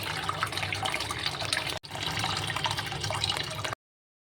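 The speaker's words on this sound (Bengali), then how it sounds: "এবার আমি ডালগুলোকে ভালো করে ধুয়ে নিয়েছিলাম।" Soaked mung, masoor and chana dal being washed in water, a steady close sloshing and running-water wash with a brief pause midway, no talking.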